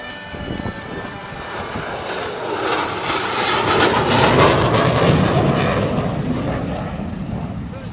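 A loud, steady jet roar from an F-111 flying a mid-radius turn at an Australian airshow swells to a peak in the middle and then slowly fades.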